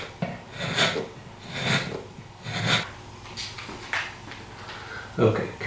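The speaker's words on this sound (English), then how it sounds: "I can do that with my reamer. So make it a little bit wider at this end." A hand reamer widens a hole in an acoustic guitar, giving a series of rhythmic scraping rasps, each about a second long, with a person talking quietly over it.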